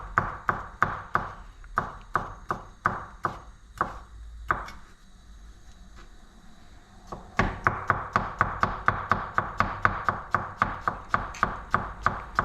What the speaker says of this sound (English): the sharper your knife is, the better, because it will help you cut it really thinly